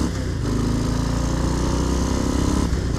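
Harley-Davidson Low Rider ST motorcycle riding on a road, a loud continuous engine drone mixed with wind rush, steady throughout.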